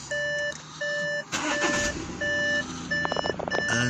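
A car's door-open warning chime beeps steadily with the ignition on, a regular series of clear tones interrupted briefly by a rustling clatter before resuming, close and moderately loud.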